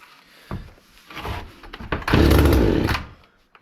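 A Hyundai Turbo 450 chainsaw undergoing repair, its small two-stroke engine sputtering in short bursts and then surging to a loud, sustained high-rev scream before cutting off abruptly.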